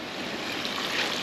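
Water from a mountain spring pours steadily through a pipe in a remote Himalayan village near Kasol, a dense, even rushing close to the microphone with no voices over it.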